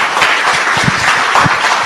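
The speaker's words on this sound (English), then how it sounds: "A better round of applause, ladies and gentlemen." Dense applause from a conference audience after a keynote at a health expo, loud and continuous throughout the short stretch.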